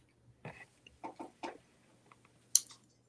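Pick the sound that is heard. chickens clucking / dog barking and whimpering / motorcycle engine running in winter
chickens clucking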